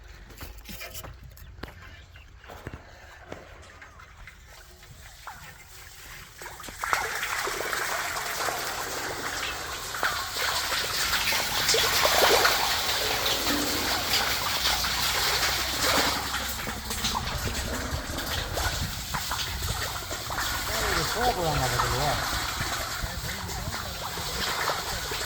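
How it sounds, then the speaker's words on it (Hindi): Water gushes from a tube well pipe into a deep pit at a borehole drilling site in Pakistan. Quiet at first, then a loud, steady rushing splash fills the rest of the clip. "आप देख रहे हैं भाई इस पाइप की मदद से इस गड्ढे में पानी डाल रहे हैं।"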